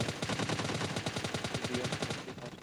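Rapid automatic gunfire from an enemy player beside a tree in PUBG Mobile Lite, a steady stream of evenly spaced shots that runs throughout, moderately loud with no talk.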